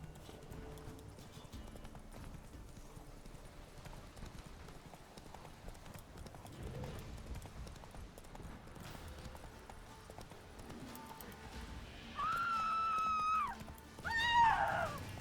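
Geralt's horse Roach galloping in The Witcher 3, a quiet, rapid, continuous hoofbeat rhythm beneath game ambience, joined near the end by louder tonal game sounds.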